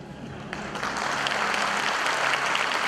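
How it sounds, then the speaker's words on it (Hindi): A lecture audience bursts into applause that swells within the first second and holds as a steady, close, dense patter of many hands. "और ये तालियां भी आधी लग रही हैं।"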